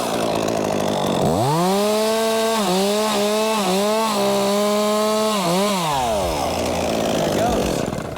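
A chainsaw snips through the hinge wood of a tree during a tree removal, its engine revving up loud and close, dipping and surging in pitch through the cut before winding down, with a voice speaking briefly over it.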